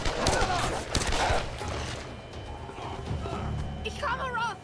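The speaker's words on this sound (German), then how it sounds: "Da wird jemand erschossen oder auf ihn geschossen." Gunfire in the video game Tomb Raider, several loud sharp shots and bursts in the first seconds, then a dense ongoing game soundscape with a voice talking over it near the end.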